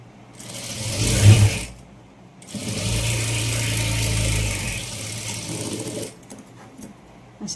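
A sewing machine stitches a princess blouse in two bursts, a short run and then a longer steady whirring hum, with pauses between, loud and close with no talk.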